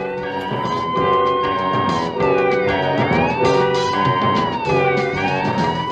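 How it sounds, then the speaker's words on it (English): Emergency sirens wail loudly and continuously, several overlapping tones sweeping up and down with no talking over them. "did you hear those sirens?"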